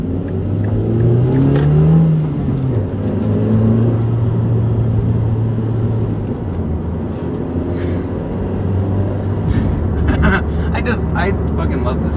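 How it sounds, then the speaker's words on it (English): Car accelerating while driving, with a loud close engine drone that rises in pitch and then holds steady, with someone talking over it throughout. "I fucking love this car, man."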